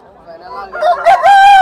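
A country rooster crows loudly and close at a Saturday village chicken market, a single rising cock-a-doodle-doo that swells over a second, with brief background voices.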